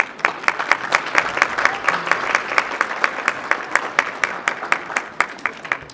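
At a 40th anniversary speech event, an audience breaks into applause: loud, dense clapping with a brisk, fairly even rhythm, close and continuous for several seconds.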